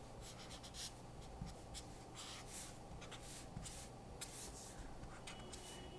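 Marker pen drawing autumn tree branches on paper, with soft repeated scratchy strokes and rubs close by in a quiet room.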